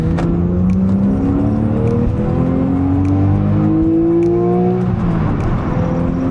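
A Porsche 911 with a naturally aspirated engine revs hard, its pitch climbing in steady sweeps through several gears, loud and close with no talk over it.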